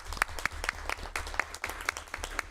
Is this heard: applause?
yes